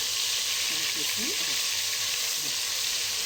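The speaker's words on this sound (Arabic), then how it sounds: "الزيت كان سخن وحطيت فيه الثوم" Garlic sizzling steadily in hot oil for a moussaka sauce, a dense, even frying hiss that fills the whole stretch with a faint voice murmuring low underneath.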